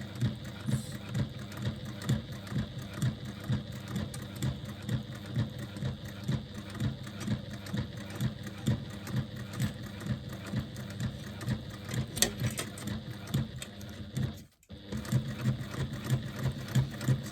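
A sewing machine top stitches a woven bag with a fast, steady mechanical whir and a rhythmic needle clatter. It runs continuously and close, breaking off briefly near the end before resuming.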